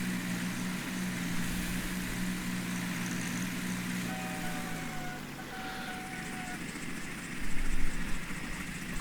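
Lawn mowers cutting grass, a continuous engine drone heard at moderate distance with a shifting pitch, rising louder near the end.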